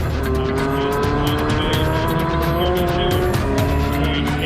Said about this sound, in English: Ron Cook attempts to break the world record of 202 miles per hour on his motorcycle.